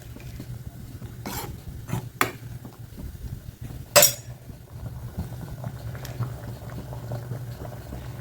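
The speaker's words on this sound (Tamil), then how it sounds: "கொதிக்கட்டும் குழம்பு நல்லா கொதிச்சிச்சு" A pot of tamarind curry with cluster beans bubbles steadily at a low simmer, with a few sharp metallic clinks from a utensil striking the pot. No one speaks.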